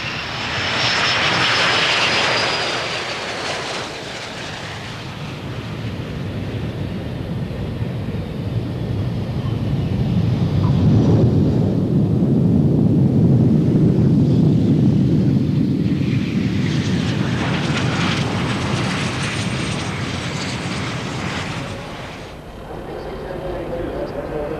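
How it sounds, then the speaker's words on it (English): A team of aircraft makes a formation landing at the RAF Fairford air show, the rear element touching down first; loud, sustained jet engine roar swells and fades across the whole stretch, buffeted by wind noise. "for Team Agia it's the formation landing with the rear element touching down first"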